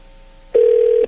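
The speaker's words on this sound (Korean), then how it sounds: "지금 전화 연결이 좀 고르지 않아서요" A single steady telephone line tone sounds loud and clear for about half a second during a shaky call connection on a Korean radio broadcast, starting and stopping abruptly.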